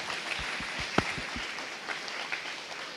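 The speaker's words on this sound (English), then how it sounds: "grateful applause." Audience clapping for presenters at a high school anti-human trafficking assembly, with a few distinct close claps near the start over a faint, thin spread of applause that tapers off.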